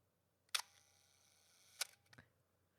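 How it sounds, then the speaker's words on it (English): A film camera shutter fires on a one-second exposure, with a sharp click at opening and a second click about a second later as it closes, followed by a softer mechanical tick. Close and clear in a quiet room. "and then this is the shutter."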